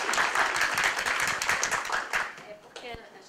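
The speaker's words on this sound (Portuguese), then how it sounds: "Palmas" Audience applause at a forum talk, brisk clapping for about two and a half seconds that fades out, with voices speaking underneath.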